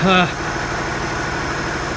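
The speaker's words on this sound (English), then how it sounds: "Let the tractor warm up." A farm tractor idles while warming up before hay baling, with a steady, moderately loud engine rumble. A short voice-like tone comes at the start.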